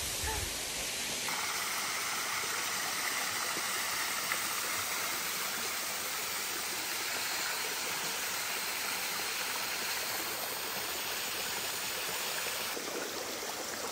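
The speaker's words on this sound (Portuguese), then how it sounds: "Essas águas transparentes e essas quedinhas d'água aqui" Small waterfalls spill through clear stream water on an early-morning outing near Itabaiana, Sergipe, making a steady, broadband rushing and splashing that stays constant and fairly close for the whole stretch.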